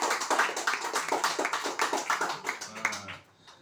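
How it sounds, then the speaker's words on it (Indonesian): Dense audience applause at a corporate meeting program, many hands clapping steadily and fairly close, swelling in uneven waves before fading out near the end. "Tuan Zarif, tepukan gemuruh untuk beliau."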